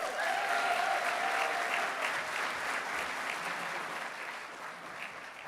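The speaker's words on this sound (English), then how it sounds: "how about another round of applause for President Pines?" Sustained audience applause fills an event hall at a university challenge finals, dense and steady, with a brief cheer near the start and a gradual taper toward the end.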